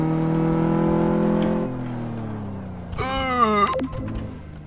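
A car in Car Mechanic Simulator 2015 finishes a steady engine drone during a test drive, then gives a short burst of high squealing tyres as it brakes hard, with the engine tone dropping away.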